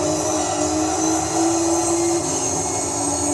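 Race car turbo engine in the Gran Turismo 3 video game during the Rome 2 hour endurance race, a loud steady droning whine with a sustained pitched tone that shifts slightly midway, no talking.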